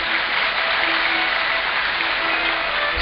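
A crowd at a Bhagwat Katha claps together in a continuous, dense burst of applause that holds at an even level throughout.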